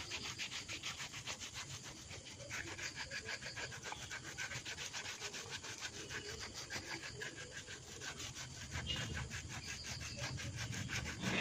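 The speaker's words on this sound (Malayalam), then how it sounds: "ആദ്യം നമുക്ക് ഉപ്പൂറ്റി ഉരച്ച് കൊടുക്കാം." A pedicure stone scrubs the heel of a foot with a steady, close, rhythmic rasping that continues without a break.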